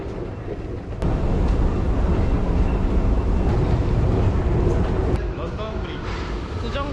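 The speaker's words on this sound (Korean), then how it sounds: "런던 지하철입니다." A London Underground train rumbles loudly and steadily, with a sharp clunk at the start of the roar and another as it eases off, a heavy, close noise filling the carriage.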